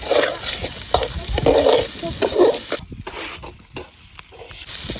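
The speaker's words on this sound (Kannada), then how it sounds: "ಇವಾಗ ಕ್ಯಾಪ್ಸಿಕಮು ಬೀನ್ಸು ಚೆನ್ನಾಗಿ ಫ್ರೈ ಆಗೈತೆ" Capsicum and green beans stir-frying in a pan, a steady loud sizzle with spatula scrapes and tosses, close up, easing off toward the end.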